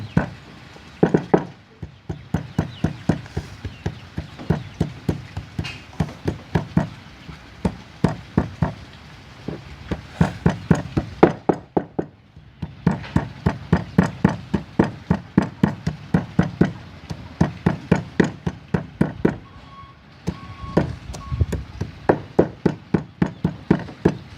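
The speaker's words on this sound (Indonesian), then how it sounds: "Semuanya bahan ditumbuk sampai halus sehingga kandungannya akan" Herbal ingredients pounded until fine, a steady run of close, heavy thuds in rhythmic bursts, with a short pause about every ten seconds before the pounding resumes.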